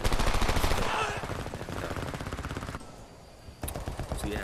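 Rapid automatic fire from an M4 rifle in the shooter HomeFront: a loud, close rattle of bursts that drops off briefly and then resumes.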